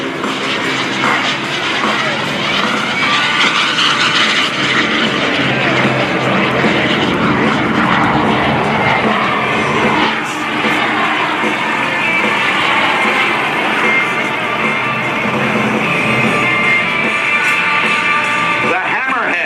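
A propeller aerobatic airplane flies a Cuban 8 at the 2018 NAS Oceana airshow, its engine a loud, continuous roaring drone that swells and shifts in pitch through the maneuver, with a commentator talking over it.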